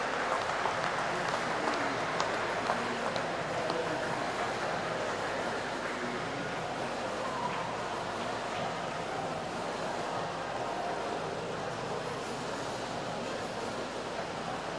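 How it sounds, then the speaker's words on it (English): Crowd applause in an indoor pool arena at a New Zealand short course swimming championship, honouring a national champion: a steady, diffuse wash of clapping that holds at an even level throughout, with reverberant hall ambience. "Give a big round of applause to Zach Reed for the National Championship."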